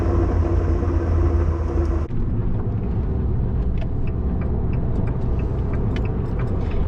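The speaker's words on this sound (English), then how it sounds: "you can hear it burbling inside the car when you have the window down a bit" A remapped Abarth rumbles and burbles from inside the moving car, a low continuous exhaust drone heard through a partly open window, with no talking.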